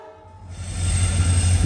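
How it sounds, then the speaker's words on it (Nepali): A train pulls into Thakurganj railway station at night, its horn sounding loud and steady over a deep rumble that builds as it approaches. "डेन्जर हेडलाइट बालेर ट्रेन आयो"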